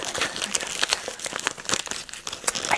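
Decorative wrapping paper crinkles and rustles steadily as a gift is unwrapped, a close, continuous crackling texture with frequent sharp crinkles throughout.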